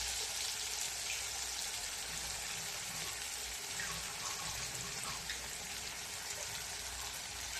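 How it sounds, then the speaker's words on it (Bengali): Water poured from a bowl to loosen a spice paste for a Bengali silver carp mustard curry, a steady, soft wash of trickling water lasting throughout, faint and without voices. "এই বাটিটা করে আমি অল্প জল দিয়ে গুলে দিয়ে দেব।"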